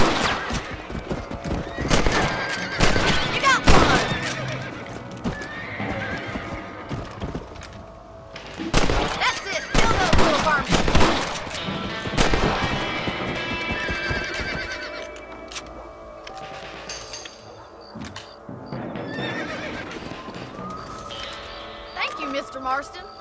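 Horse hooves clip-clopping and whinnying during rabbit hunting on horseback in the Red Dead Redemption video game on Xbox 360, with bursts of sharp gunshot-like cracks, loud and close, with speech mixed in.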